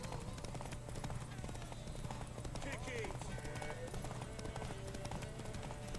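Horse hooves clip-clop in a steady trotting rhythm in The Witcher 3, with game music and voices speaking over the hoofbeats.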